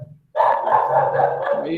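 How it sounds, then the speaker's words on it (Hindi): A dog barks in a setting with voices nearby, its sustained loud barking running continuously under a man's speech. "कुत्ता इसको भौंक रहा है,"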